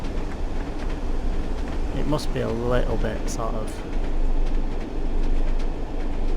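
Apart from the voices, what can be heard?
train driving, Class 101, video game Train Sim World 2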